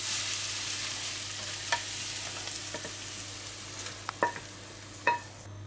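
Vegetables sautéing in a frying pan with oil as salt is mixed in: a soft, steady sizzle with a few distinct scraping knocks of a utensil stirring, no talking.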